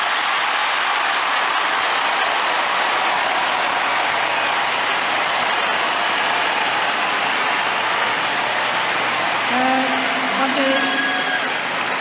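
A huge crowd of about 23,000 cheers and applauds at the US Open tennis match between Serena Williams and Ajla Tomljanović, a dense, loud, sustained roar filling the whole stretch.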